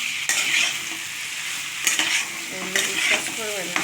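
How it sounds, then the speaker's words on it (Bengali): Cauliflower being sautéed and stirred in a pan, with a steady sizzle and the scrape of a spatula in several bursts, close and alone. "এরপর আমি ফুলকপিটাও দিয়ে দেবো। ভালো করে এটার সঙ্গে কষিয়ে নিতে হবে।"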